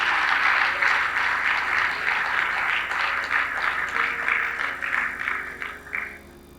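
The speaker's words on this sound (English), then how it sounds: "Clap if you want to clap." A church congregation claps and applauds during a sermon, a dense, steady wash of many hands that keeps going for several seconds before thinning out and fading near the end.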